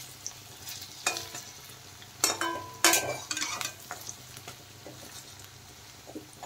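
Masoor dal and pumpkin leaf fritters frying in oil, being turned: a steady low sizzle broken by sharp spatula scrapes and clacks in a short cluster, close and moderately loud, with no talking.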